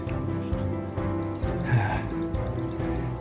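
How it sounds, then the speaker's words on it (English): Birdsong along a summer forest trail, a faint repeated chirping call threading over a steady low background rumble of distant traffic, with no voices. "Still beautiful and filled with birdsong."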